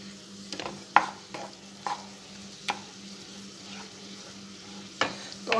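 Malai and paneer mixture for malai laddu being stirred in a pan, with irregular soft scraping strokes and a few sharper clinks of the spoon against the pan over a low steady hum.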